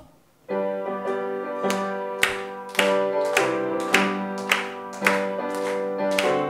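A church congregation claps in a steady, even beat along to hymn 502 at a Wednesday prayer service, the claps loud and regular over sustained keyboard or organ chords.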